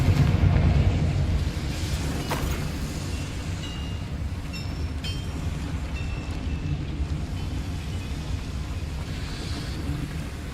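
Confringo spell explosion inside a small mine in the video game Hogwarts Legacy: a heavy rumbling boom at the start that settles into a sustained low roar with faint high chimes.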